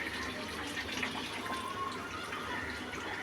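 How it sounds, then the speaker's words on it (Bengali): Hot water poured into a pot of mutton kosha as it cooks, a steady soft splashing pour heard fairly faintly and continuously. "এবার জল দিই। হ্যাঁ গরম জল দিল।"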